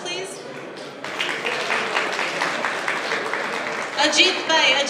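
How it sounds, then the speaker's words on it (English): Audience applause at a mental health awareness fundraiser, a crowd of clapping hands building after a quiet start and continuing steadily, with voices talking over it near the end. "A round of applause, please."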